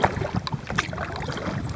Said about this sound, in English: paddling down the Suwannee